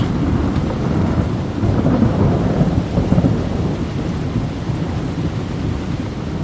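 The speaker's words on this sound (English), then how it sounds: "It was the loudest thunderstorm that I can remember in this country." Heavy rain pours steadily in the New Forest while deep thunder rumbles and rolls loudly through the storm, a dense continuous roar with no voices.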